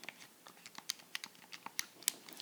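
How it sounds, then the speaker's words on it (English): Rapid, irregular clicking of fingers on a computer keyboard, light taps and sharper key strikes coming close and clear with no voice over them. "You hear me doing some typing here."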